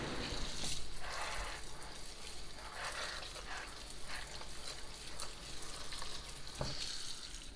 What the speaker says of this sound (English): I'm going to soak these apricots in this and just wash them thoroughly